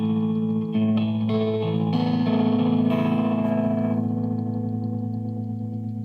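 An electric guitar run through a Woodpecker Trem tremolo pedal rings out alone with sustained, layered chords that pulse in volume and slowly decay, played on a guitar with single-coil pickups.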